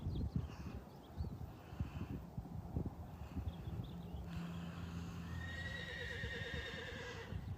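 A horse that has had two months off from riding walks with soft, irregular hoof clops while whinnying several times at mid distance, the calls rising and wavering over a steady outdoor background.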